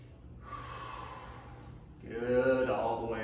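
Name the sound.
deep breath during chair yoga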